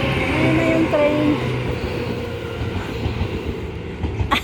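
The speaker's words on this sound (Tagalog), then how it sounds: "Ayan na guys, yung train. Bye bye train." Train passing through a station in Japan, a steady loud rumble with rail clatter and a brief brake squeal early on, close by throughout.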